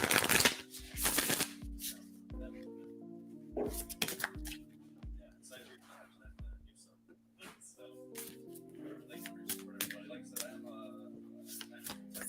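Tarot cards are shuffled in repeated quick riffles and soft slaps near the microphone, with a few louder bursts early on and quieter stretches between them.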